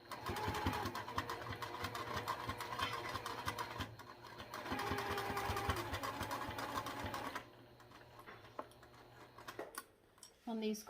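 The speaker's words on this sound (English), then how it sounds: "Okay, so we'll sew this part on." A sewing machine stitches a mini backpack part in steady runs, pausing briefly near the middle and stopping near the end, with a voice talking over the stitching.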